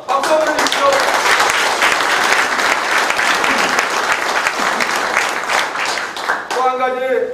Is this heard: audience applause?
yes